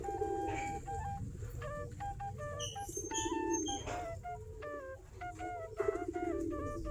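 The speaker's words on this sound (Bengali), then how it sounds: "কবুতরগুলো খাবার খাচ্ছে এখানে।" Giribaz pigeons feed outdoors, with low soft coos running underneath while many sharp bird chirps and tweets repeat on top, close by and continuous.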